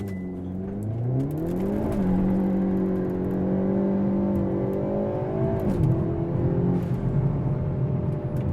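A Hyundai Elantra N fitted with PowerFlex bushings accelerates hard on a slightly uphill street, its engine droning loudly and rising in pitch through two gear shifts, heard from inside the car with no talking.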